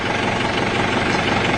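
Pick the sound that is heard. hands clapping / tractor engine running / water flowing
tractor engine running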